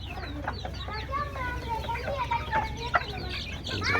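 Native deshi chickens on a small farm clucking and calling in overlapping bursts, several birds near and mid-distance over a low continuous background rumble.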